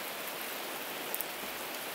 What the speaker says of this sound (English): Raining like this,